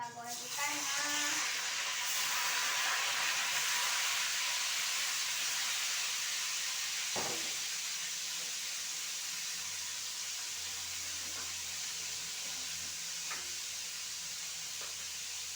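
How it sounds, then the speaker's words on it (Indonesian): Fish frying in hot cooking oil, a steady broad hiss and sizzle with a sharp crackle burst partway through and faint pops after. "ini minyaknya udah panas, kita goreng ikannya"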